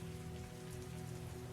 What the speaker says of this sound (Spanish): la lluvia era ensordecedora